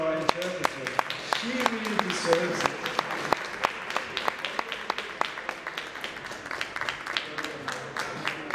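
Audience applause at the close of a lecture at a beekeeping fair, a loose patter of individual claps from a modest crowd, fairly close, with some murmuring voices mixed in.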